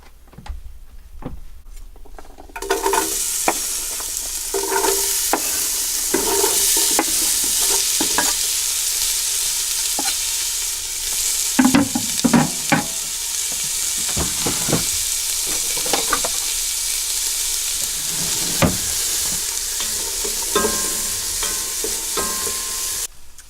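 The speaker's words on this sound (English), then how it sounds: "Now we're going to add the onion to the pan." Chopped onion sizzles steadily in a pan for vegetable chili aboard a liveaboard boat, a loud continuous frying hiss that starts after a quiet moment, with occasional clicks and scrapes of stirring.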